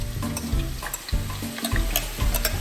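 Garlic sizzles steadily in a hot pan for Texas JC Bagoong, a continuous frying crackle with repeated scraping and stirring strokes, close and fairly loud with no talking.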